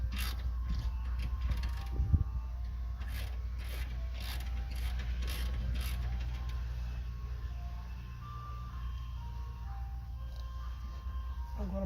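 A ratchet tightens a control arm bolt on a Dodge Magnum: quick, rhythmic clicking strokes in short runs, fairly faint over a steady background hum in a garage.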